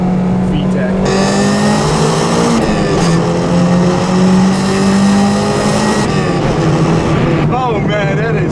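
A 1992 Honda Civic EG hatchback with a swapped B18C GSR engine accelerates hard, its loud rising engine note climbing through the gears into VTEC, with a voice talking over the cabin roar.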